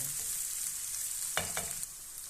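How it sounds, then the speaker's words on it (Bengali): Onion sizzles as it fries in a pan while a spoon stirs it, with a soft steady frying hiss and two quick scraping strokes against the pan. "পেঁয়াজটা আমি চামচ দিয়ে ভালো করে লাইরা নেব।"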